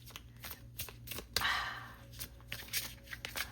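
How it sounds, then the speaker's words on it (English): Tarot cards being shuffled close by in a quiet room, a series of soft riffling bursts with one louder, longer riffle in the middle and no talking. "excuse the shuffling"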